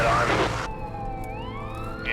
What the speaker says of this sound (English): that's the second ambulance I've seen go by